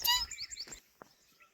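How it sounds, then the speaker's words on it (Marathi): Sparrows chirping at dawn, a quick cluster of short high tweets close by, followed by a single faint chirp. "चिमण्याचा आवाज यायला ना चु चु चु चु"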